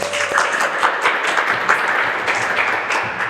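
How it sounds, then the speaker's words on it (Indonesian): A school audience at an SMK vocational school event claps together in a steady, continuous round of applause, loud and close throughout the short stretch with no talking over it. "tepuk tangan kita semua"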